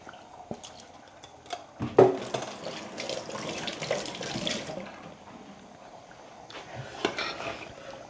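Water poured into a pot holding moong dal and rice for khichdi, a steady splashing pour with a sharper burst near the start, close and fairly quiet, with no talk.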